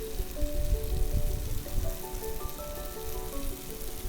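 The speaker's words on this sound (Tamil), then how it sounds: "எல்லா மஷ்ரூமையும் ஆட் பண்ணிவிட்டு நல்லா சாட்டே பண்ணிக்கோங்க" Mushrooms sautéing in a pan for a mushroom gravy with tomatoes: a steady, close, dense sizzle and crackle of frying that holds evenly throughout, with no voices.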